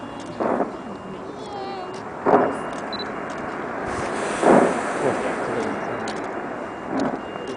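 Several separate booming blasts, about four, spaced a couple of seconds apart at a moderate distance, with faint background noise between them.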